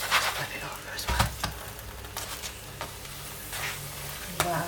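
A potato, cheese and onion paratha sizzles in a pan after being flipped, a hissing crackle with a few bumps and scrapes of handling, heard close with some voice in the background.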